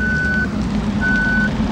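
Reversing beeps from a bus in Bus Simulator Ultimate, set at a Brazilian terminal: two steady electronic tones, each about half a second long, repeat at an even pace over a continuous low engine rumble.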